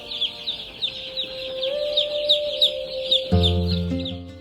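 Young Cornish Cross meat chicks in a brooder give a steady run of high, rapid peeping chirps, close and continuous, with a lower tonal hum underneath and a burst of louder sound near the end.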